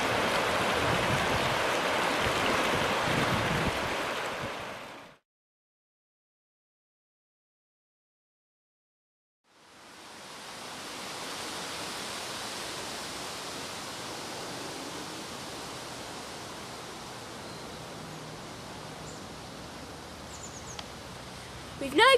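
The River Douglas emerges from its underground tunnel, a steady broadband rush of flowing water that cuts out briefly midway, then returns as a softer, even wash.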